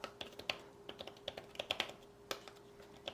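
Typing on an iPad Pro Smart Keyboard Folio, a quick run of light, flat key clicks in uneven bursts with short pauses, close and quiet with no talking.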